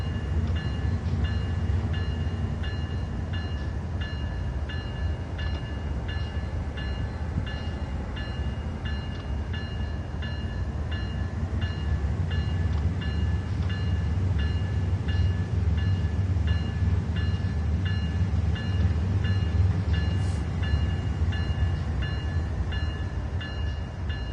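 A BNSF intermodal freight train in Train Sim World 3 rumbles steadily on the Cajon line, its low continuous engine and wheel noise holding evenly with faint repeating rail clicks.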